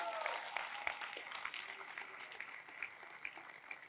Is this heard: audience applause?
yes